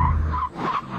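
A Dodge Viper SRT10 hauls down hard from speed, its tires squealing in a loud, wavering screech over steady road rumble for about a second.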